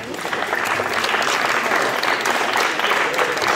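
A crowd at a school awards ceremony gives steady, dense applause throughout. The clapping is close and even and stays loud from start to finish.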